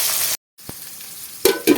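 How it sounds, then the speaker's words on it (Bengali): Onion and tomato crackle and sizzle in oil in a pan, broken by a brief silence and a couple of louder clanks of stirring near the end. "পেঁয়াজ আর টমেটোটা ভাজা ভাজা হয়ে গেছে"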